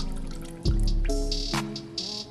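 Melted soy wax for an ice cream sandwich candle is poured into a mold, a close, soft liquid trickle with a few drips and light splashes, no voices.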